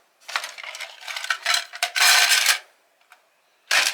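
Metal keys clink and rattle as they are sorted by hand in a small tin, several bright jangling bursts close up, then a pause and one last clatter.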